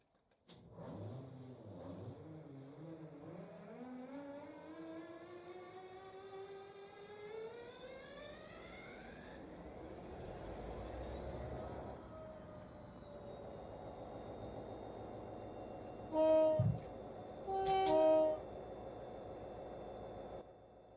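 Class 57 diesel locomotive in a train simulator game starting up, engine note rising and settling into a steady idle, with two short loud clunks near the end.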